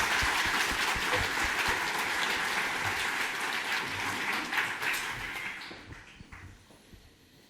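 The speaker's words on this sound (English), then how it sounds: "How about a big round of applause for Andrea Shields and her Varda 5 team." An audience at a university new-venture pitch competition breaks into sustained, dense applause for a pitch team, the clapping holding loud and even before tapering off toward the end.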